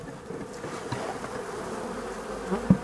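Honey bees buzz inside a struggling hive that has lost its queen, a dense continuous hum close up with a few handling knocks near the end and no voices.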